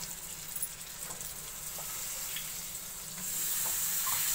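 Eggplant pieces hit a hot pan of cooked masala mixture, raising a soft, steady sizzle and hiss that swells slightly toward the end, with faint stirring scrapes and no voices.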